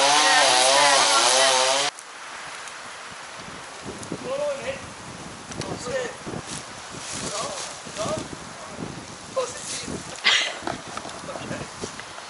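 A chainsaw cutting through a tree during felling at a rural property in Abruzzo, Italy, heard as a rough, wavering whine in the middle distance. Wind buffets the microphone and people talk over it.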